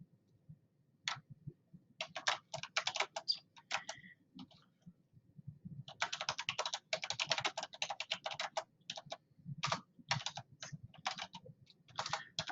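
Fast, irregular clatter of keys on a computer keyboard, near and clear, coming in bursts of rapid typing separated by short pauses, with no talking.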